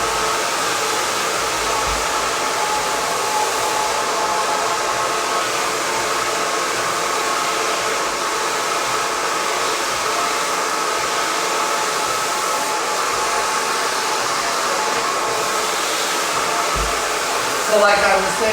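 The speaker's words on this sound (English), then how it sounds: "You may just want to blow dry in the front of your hair like this." Steady, loud hair dryer blowing continuously as it dries the front of a bob haircut, a constant rushing whir with no pauses and only a faint change near the end.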